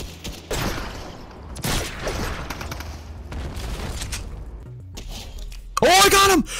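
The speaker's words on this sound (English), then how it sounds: "Gunfire." Video game gunfire comes in a few short, loud bursts spaced a second or so apart, mixed with clattery effects and a brief sharp tonal sound near the end.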